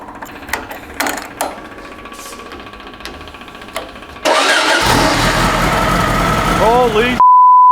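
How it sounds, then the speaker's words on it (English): A custom-built VW engine for a Baja Beetle cranks with a few scattered clicks and knocks, then catches and roars into a loud, steady run close by for several seconds before cutting off abruptly. "Let's see if we can actually crank on it for a little bit and get some fuel to it."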